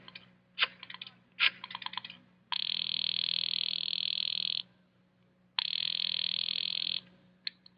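An old-fashioned telephone rings on a call in a radio drama sound effect, sounding two long, loud ringing bursts with a pause between. A few short clicks of dialing or handling come before the rings.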